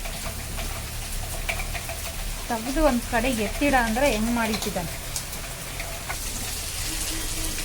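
Heavy monsoon rain pours steadily in a village garden, a broad continuous hiss throughout, while a person talks briefly in the middle.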